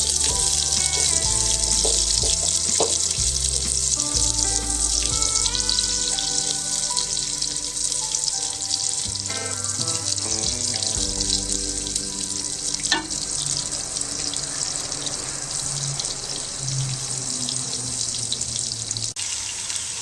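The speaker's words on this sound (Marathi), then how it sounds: "आपलं तूप इथे आता तापलं आहे त्यामध्ये मी घालणारे मटार" Green peas sautéing in hot ghee, a steady loud sizzle and hiss that runs through the whole stretch with no talk.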